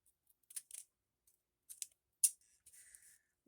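Scissors snipping through a paper book page while making belly bands, a few short close crisp cuts in quick bursts with quiet gaps between.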